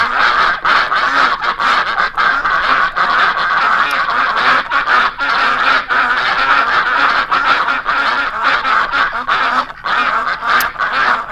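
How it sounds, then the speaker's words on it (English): Many birds honking and quacking together in a dense, continuous chorus of geese and ducks, loud and close throughout with no talk. "There's a lot of birds out here"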